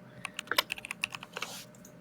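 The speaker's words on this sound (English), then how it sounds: "No typing." Typing on a computer keyboard during an online tabletop role-playing session, about a dozen quick, close keystrokes in an uneven burst over two seconds, with no talking over them.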